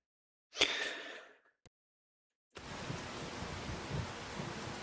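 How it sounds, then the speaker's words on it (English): Rain in Farming Simulator 25 starts as a steady wash of noise partway through, after a brief burst and a short silence, with no talk over it. "And kind of hoping this rain will disappear off."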